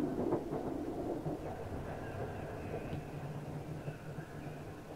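Train arriving in the video game The Darkness, a low rumbling roll with a faint high squeal of wheels, steady and fading slightly as it continues, with no voices.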